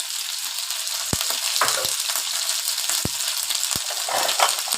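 Chicken pieces with chopped ginger and garlic sizzle loudly in a pot, a steady close frying hiss broken by a few sharp clinks of stirring.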